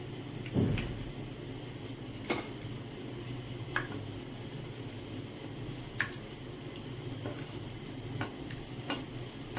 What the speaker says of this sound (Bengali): তো তেলটা গরম হয়ে গেছে, আমি এখন বলগুলো দিয়ে দিলাম।